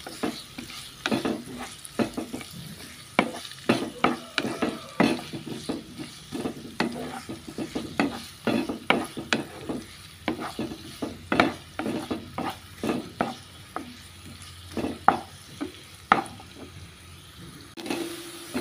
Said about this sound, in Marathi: आनी तोय बरो करून भाजयतां मोव जावपा पासून.